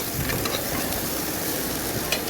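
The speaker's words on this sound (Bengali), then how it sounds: "পেঁয়াজ কাঁচামরিচ কেটে রেখেছি, এগুলো এখন আমি তেলের উপরে দিয়ে দিব।" Chopped onions and green chilies sizzling in hot oil in a pan, a continuous close hiss with scattered crackles and faint scraping of stirring throughout.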